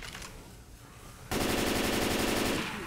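.50 cal machine gun in Left 4 Dead 2 opens up after a quieter stretch, a loud, sustained rapid burst of heavy automatic fire that holds steady for over a second and a half before tapering off.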